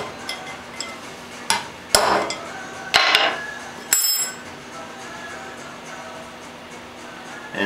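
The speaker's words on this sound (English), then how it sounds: "We have a small brass straight rod here, and we're using because we want something that's softer, and all we want to do is just give it a little hit" A small brass rod is struck against a metal part to try to break it loose, giving several sharp metallic taps and clinks, close and distinct, spaced about a second apart, then a quieter ringing tail.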